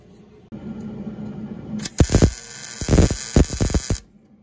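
Welding on a steel gate gives about two seconds of loud, crackling, sputtering arc noise in uneven bursts after a quiet hum, then stops abruptly.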